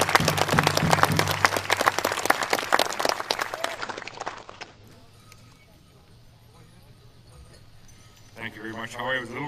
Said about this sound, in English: let's bring them to the podium with a big round of applause